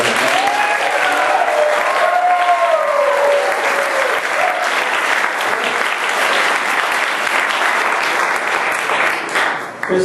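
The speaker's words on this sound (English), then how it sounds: "So can we give a big round of applause?" An audience at a choral event breaks into a big round of applause, dense sustained clapping that stays loud and even for about ten seconds before starting to thin at the very end.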